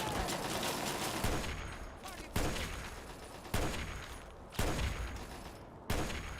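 Repeated gunfire in Fallout 3: dense bursts of shots with sharp onsets recurring about every second, loud and close, with a few heavier blasts standing out.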